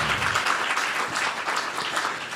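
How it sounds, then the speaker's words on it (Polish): A studio audience claps for a professor introduced as a guest on a panel about the Katyn massacre and Polish-Russian relations, a short burst of dense, steady applause with no voices over it. "Brawa dla pana profesora."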